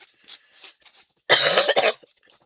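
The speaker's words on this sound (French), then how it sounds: "Ah, décidément, cette toux ne veut pas me lâcher." A single loud, harsh cough erupts close up after quiet faint noises, lasting under a second.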